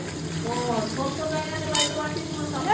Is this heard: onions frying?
yes